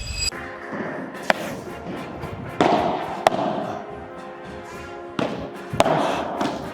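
Padel ball struck by rackets during a rally on a court, several sharp pops spaced a couple of seconds apart over a constant background hum and ambient court noise.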